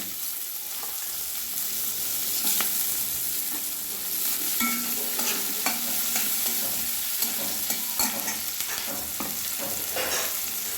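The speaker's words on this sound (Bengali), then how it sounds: "এবারে আলু ভাজা তেলে পেঁয়াজগুলো দিয়ে দিলাম।" Onions sizzle in the oil left from frying potatoes, with a steady, close crackle broken by the scrape and clatter of stirring.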